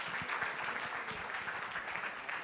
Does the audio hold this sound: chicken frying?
no